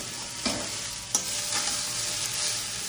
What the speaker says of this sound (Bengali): সেই ভাতটা রেখেছিলাম, তো সেটা একটু জিরে দিয়ে ভেজে দিচ্ছি।